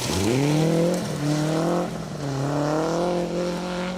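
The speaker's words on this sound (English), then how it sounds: "now he's driving the X-Works Malcolm Wilson" An X-Works Malcolm Wilson Mark II rally car on a rally stage, its engine loud and close, revving hard through several rising and falling gear changes with no talking.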